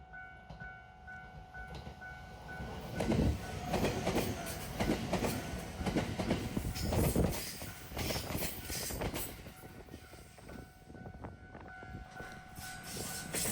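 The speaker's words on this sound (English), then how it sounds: "And just a few seconds away from passing it exactly at the level crossing is this service up the gradient" Passenger train climbing a gradient past the level crossing at Bandohara, a loud rolling rumble with rhythmic wheel clatter that swells and then fades, heard alone without voices.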